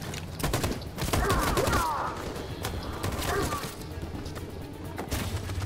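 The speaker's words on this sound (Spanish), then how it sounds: "¡Esta ametralladora acaba con todo lo que se mueve!" A machine gun fires in the Detroit: Become Human video game, sustained heavy bursts mixed with crashes and impacts that stay loud and dense throughout.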